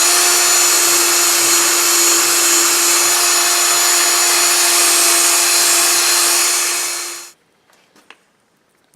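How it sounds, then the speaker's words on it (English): A steady, loud power drill whine runs for about seven seconds while drilling holes in a knife handle, then cuts off abruptly, leaving a few faint knocks and clicks. "I'll just be using a power drill"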